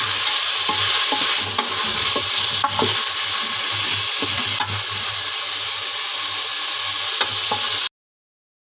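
Spice masala roasts in a hot pan while being stirred, giving a dense, continuous sizzle laced with scraping strokes and small taps, loud and close, ending abruptly, no talking.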